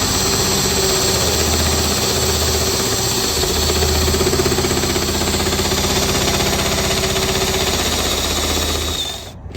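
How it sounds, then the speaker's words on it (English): A power drill bores out a plug on an 84 C20 truck build, a steady loud grinding whir with rhythmic juddering vibration that runs unbroken for several seconds before cutting off abruptly at the end. "As you're drilling this out, hopefully my fingers aren't in the way."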